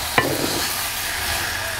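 Green peas being stirred into hot oily masala in a pan, a brief utensil scrape and clatter at the start followed by a steady soft sizzle of frying, close and alone with no voices.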